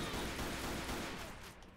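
Rapid gunfire in the video game Left 4 Dead 2, a dense and continuous barrage of shots that stays fairly quiet and fades slightly toward the end.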